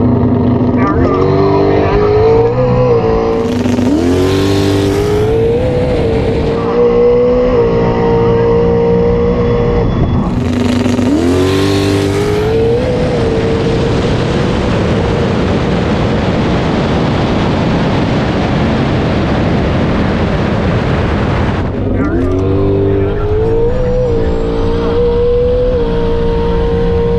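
A big-boost turbocharged Toyota Supra launches at a drag strip, its engine revving in rising surges that climb, fall and climb again before a long, loud sustained pull. A commentator talks over the engine noise.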